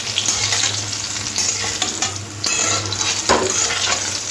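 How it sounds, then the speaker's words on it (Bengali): Eggplant slices fry in hot oil until reddish-brown, giving a steady, fairly loud sizzle with a few soft scrapes of stirring. Nobody speaks. "বেগুনগুলো এরকম লাল করে ভেজে নিতে হবে।"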